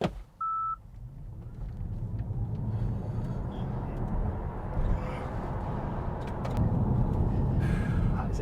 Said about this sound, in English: You do get a little bit of road noise